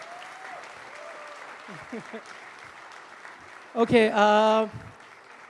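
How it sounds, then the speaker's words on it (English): Applause from an audience welcoming a cricketer, a low continuous patter that carries on under a brief spoken word and a louder burst of voice near the end. "So come on, give him a round of applause,"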